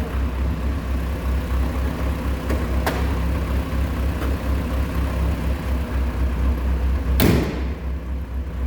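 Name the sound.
1976 Cosworth Vega engine idling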